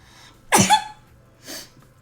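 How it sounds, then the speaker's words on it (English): A single sharp sneeze bursts out close to the microphone, followed by a softer breathy exhale about a second later, with no talking over it. "Oh no, I gotta sneeze."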